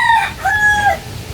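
A rooster crows loudly and close by in two drawn-out calls among backyard chickens, with faint rustling beneath and no talk.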